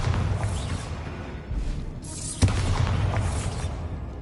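A Bombarda blast spell goes off in Hogwarts Legacy, a loud boom with a sharp burst near the middle over a dense, rumbling background of game sound.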